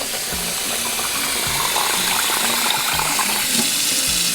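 Running water pours steadily into a cooking pot, a continuous splashing rush with faint low thumps underneath.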